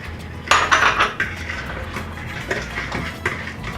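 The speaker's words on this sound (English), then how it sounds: "We're going to mix our wet ingredients well." Wet banana bread batter with vanilla and applesauce is mixed in a bowl, a utensil clinking and scraping against the bowl in quick bursts, loudest early then lighter, with no talk.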